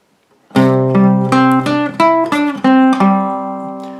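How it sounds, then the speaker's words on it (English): Guitar notes ring out one after another in a rising broken chord on C, each pluck overlapping the last, close and clear with no talking. "what you're doing there is arpeggiating upwards on the C"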